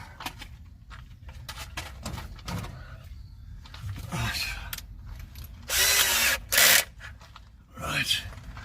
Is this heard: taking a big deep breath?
no